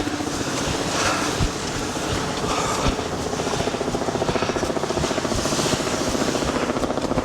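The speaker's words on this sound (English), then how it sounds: "Helicopter up there." Helicopter passing overhead during an outdoor run near red rock, a steady low rotor chop with a continuous broadband whir, moderately loud and sustained throughout with no talking.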